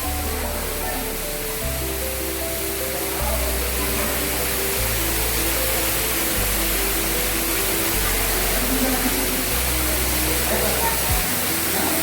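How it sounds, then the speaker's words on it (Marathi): Waterfall near the Rudreshwar temple in hilly country, a steady broadband roar of falling water that fills the whole clip, with a voice talking over it at close range. "आणि काहीतरी धबधबा आहे"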